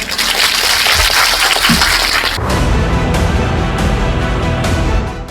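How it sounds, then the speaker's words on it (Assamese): A political rally crowd claps for the chief minister, first as a loud roar of mixed cheering and applause and then as sharper, steadier clapping that fades at the very end. "আমাৰ অসমৰ মাননীয় মুখ্যমন্ত্ৰী জয়ন্ত বৰুৱা ডাঙৰীয়াৰ কাৰণে এটা জোৰে এটাই হাত চাপৰি বজাই দিয়ক"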